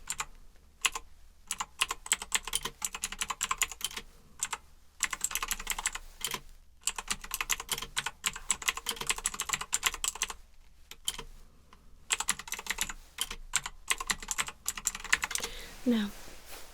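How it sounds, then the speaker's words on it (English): Typing on a computer keyboard in a quiet pharmacy check-up setting, with rapid, close key clicks in long runs broken by brief pauses, steady and crisp throughout. "So, I'm just going to type in what you told me."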